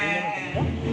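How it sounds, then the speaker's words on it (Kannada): A sheep kept for sacrifice at a village Karaga festival gives a single short, close bleat lasting about a second. "ಬಲಿ ಕೊಡೋ ಕುರಿ ಗೈಸ್."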